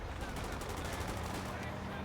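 Dense, continuous gunfire in the video game Company of Heroes 2, with Tommy guns firing during a battle against Axis infantry, a steady loud crackle of overlapping shots filling the whole moment.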